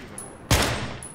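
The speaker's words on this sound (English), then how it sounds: "He started to shoot the fence." A single loud burst of gunfire in the video game Battlefield, a sharp near blast that decays quickly under a faint high tone.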